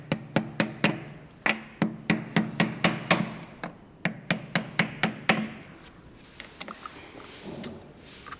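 A planer and hammer tap a letterpress printing forme level, a steady run of sharp, close wooden knocks in quick even series with brief pauses, loud and alone.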